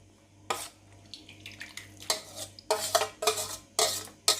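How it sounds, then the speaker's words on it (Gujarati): Grated raw mango in sugar syrup being scraped into a kadhai, a series of sharp metallic clinks and scrapes of a spoon against the pan, close and fairly quiet, growing busier toward the end. "કેરીના છીણને આપણે આ રીતે કઢાઈમાં કઢી લઈશું"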